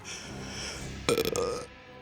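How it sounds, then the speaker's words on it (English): A short, low burp from a game in the System Shock horror series, loud and close, lasting about half a second over a steady background hum. "little baby burp"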